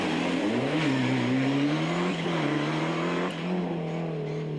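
A Ford Sierra Cosworth rally car drives a damp, leaf-strewn stage in the rain with its engine loud and close, holding a steady note with slight rises and dips as it pulls along the road.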